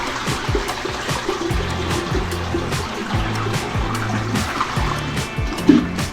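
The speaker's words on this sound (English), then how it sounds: "Flush it." Toilet flushing after a drain blockage is cleared: steady rushing, swirling water runs throughout, with a low mechanical hum and intermittent banging underneath.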